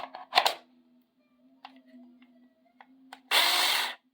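A cheap electric screwdriver ordered from Temu is tested: a few light handling clicks and a faint hum, then one short, loud motor whir close by near the end.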